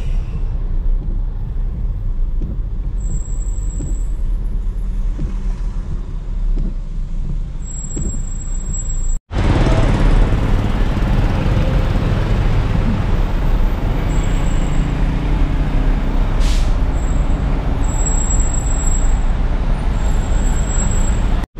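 Dense, loud road traffic with buses and trucks in a jam where a truck has broken down, a steady roar of engines throughout that swells louder partway through, with faint high whines and a brief hiss.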